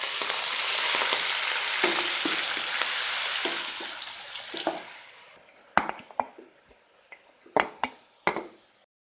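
Grated radish goes into frying garlic, cumin and crushed red chili, a loud close sizzle that fades over several seconds. Sharp, separate clanks of a spoon against the pan follow, with no speech.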